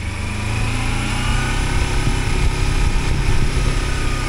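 A motorcycle engine running steadily on an adventure ride in Tasmania, a loud, close buzzing drone that holds level and swells slightly toward the end.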